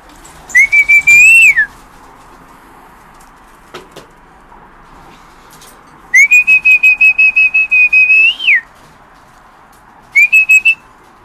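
A loud, shrill whistle sounds in three rapidly pulsed bursts, one long and two shorter, separated by quiet pauses, like a trilling signal call.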